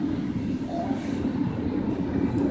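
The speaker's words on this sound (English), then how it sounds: "So guys, this is a very nice train." Big train passing near Brighton, a steady loud low rumble and roar that holds evenly without breaks, with no talking over it.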